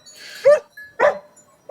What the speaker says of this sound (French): Donc Ruby, c'est un border, hein. Border collie